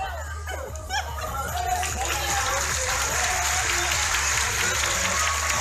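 An audience at a Christmas promotion prize draw applauds the winner of a new car, a brief voice at first giving way to sustained, fairly quiet clapping from a crowd.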